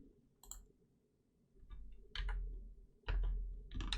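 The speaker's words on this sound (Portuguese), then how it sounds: "Eu poderia muito bem chegar aqui no cantinho, também ficou uma cruzinha preta, posso dar um duplo clique." A computer mouse clicks while someone works in an Excel spreadsheet: several quiet, sharp clicks, some in quick double-click pairs, spaced across a few seconds over a low steady hum, with no talking.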